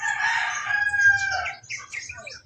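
A rooster crows nearby, one long drawn-out call followed by a few broken, fading notes, alone against a quiet background.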